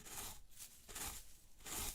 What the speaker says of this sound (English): this is the sound of a hoe.